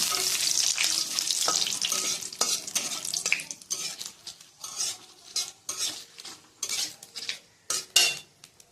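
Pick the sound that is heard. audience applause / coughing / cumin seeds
cumin seeds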